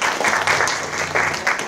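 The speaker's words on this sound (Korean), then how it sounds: "다시 한번 큰 박수로 부탁드리겠습니다" Sustained applause from a conference audience at a Korean academic society's autumn international symposium, loud and continuous clapping for the full length with no talk over it.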